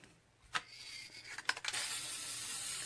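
Short hissing bursts of spray paint from an aerosol can, a couple of quick puffs followed by a longer steady spray, fairly close and otherwise quiet.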